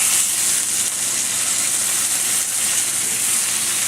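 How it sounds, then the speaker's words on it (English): Steak searing in a hot pan gives a steady, bright sizzle and hiss, constant and fairly close with no talking over it. "Basically, you can sear every side you can get it to stand up on"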